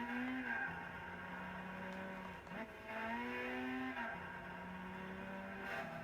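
A Lotus Elise races in Gran Turismo 6 on a track with long corners and S-bends, its engine droning steadily, pitch rising and dipping with shifts and throttle, moderately loud with no talk.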